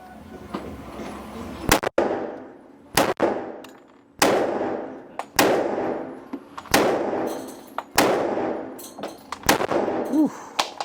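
A new Glock pistol firing at a target at 7 yards: sharp, loud gunshots with ringing decays, about seven or eight spaced irregularly at close range, with no talking.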